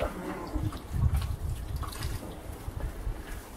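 A Volkswagen Golf headlight being scrubbed with washing-up liquid and a scratchy pad, giving close, wet, soapy rubbing and swishing that continues in uneven strokes throughout.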